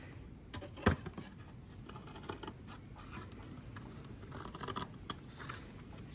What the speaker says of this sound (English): A bit quicker to use the scissors when you're cutting up this way.